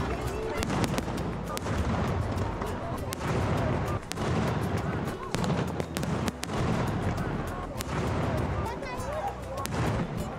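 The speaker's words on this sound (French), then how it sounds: "Quand les feux de bois commencent à fléchir, les feux d'artifice prennent le relais." Fireworks burst during the Saint-Jean festival night in Minorca, a rapid irregular series of loud cracks and booms layered over crowd noise and commentary.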